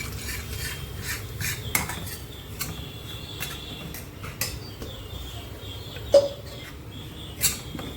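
Rice semolina roasting in ghee in a pan over a low flame, stirred with a utensil that gives scattered soft scrapes and occasional sharper clinks against the pan, close by.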